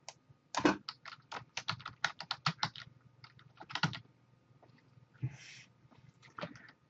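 Quick bursts of keystrokes on a computer keyboard, close and fairly quiet, in an irregular rhythm with short pauses between runs of typing.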